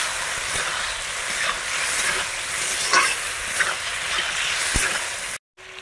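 Arum stalks sizzle and fry steadily in a hot pan, with scraping stir strokes throughout and a brief silence near the end before the sizzle resumes.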